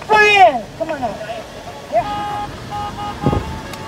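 Car horns honk at a drive-in graduation: short, steady toots sound through the second half, with voices and crowd noise over them and a louder voice at the very start.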